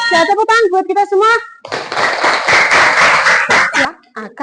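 Children in an Indonesian primary school classroom clap their hands together in a loud burst of applause, following a teacher's voice and a short gap, with scattered claps trailing off at the end.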